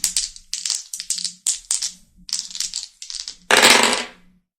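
Dice for a tarot reading shaken and rolled, a quick series of close, dry rattling bursts followed by a final louder clatter.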